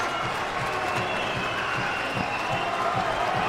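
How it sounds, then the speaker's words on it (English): A packed Walsall Town Hall boxing crowd applauds both fighters at the final bell, steady clapping and cheering that fills the hall, with a commentator talking over it. "The entire Walsall Town Hall stands to applaud both men"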